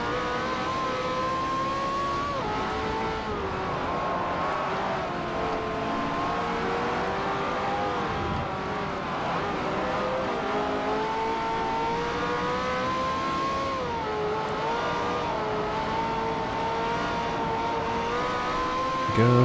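Ferrari race car engine in Forza Motorsport 4 droning steadily and loud throughout, its pitch rising and dipping through gear changes as it pushes through the field, with other cars' engines blending in.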